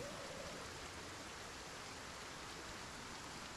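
A steady, dense hiss of rainfall in the video game Project Zomboid pours on without a break, soft and even like heavy rain on a surface.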